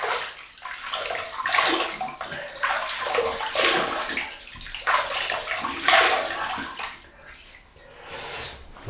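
Water splashes and sloshes in a basin as a face is wetted before a shave with a brass double-edge safety razor and a shave stick, with irregular bursts of splashing, fairly close and fairly loud.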